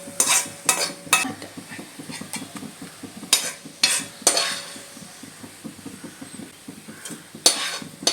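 Fried piranda (veldt grape) and other chutney ingredients are scooped out of a sizzling pan, with steady frying hiss under a run of sharp metal ladle scrapes and clanks against the pan, some close and loud.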